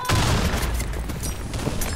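Grenade blast in the Blackshot shooter game, a loud booming burst with dense crackling gunfire layered over it, sustained for about two seconds with no speech.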